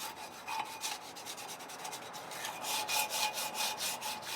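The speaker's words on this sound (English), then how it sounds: "You just keep scraping." Metal scraper rasping burnt, caked-on grease off a Ninja FlexFlame Grill, a steady run of close, rhythmic scraping strokes with no talking.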